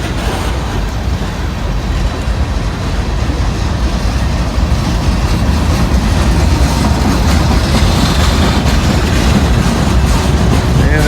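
A freight train with distributed power units rolls past close by at a busy rail junction, a loud, continuous rumble of wheels and cars with faint clickety-clack, steady throughout.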